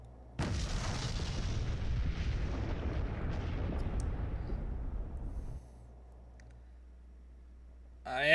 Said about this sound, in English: Imaginary implosion pulse, detonate.